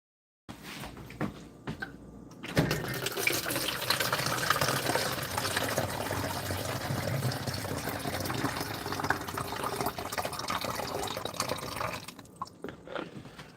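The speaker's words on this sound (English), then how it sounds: "I have to refill my water bottle." Water runs from a tap into a water bottle being refilled, a steady rushing stream lasting about ten seconds after a few clicks, then cutting off with brief handling noises.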